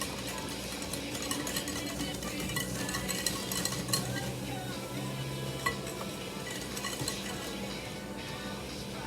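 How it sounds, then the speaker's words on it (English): Cupcake batter being beaten with each added ingredient, a continuous whirring and clattering churn in a bowl, with music playing underneath and no talking. "with each addition, we are going to beat them in"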